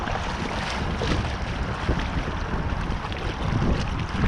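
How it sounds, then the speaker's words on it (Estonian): Strong gusting wind buffets the microphone on the shore of Maardu lake, a loud continuous roar with rumbling low gusts and no talking. "Aga ebamugav on olla ka, meeletu tuul on"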